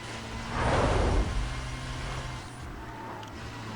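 Engine of a BMW fitted with a V8 in the Need for Speed Most Wanted PC game, a loud low rumble that swells and revs near the start, then settles into a steady drone.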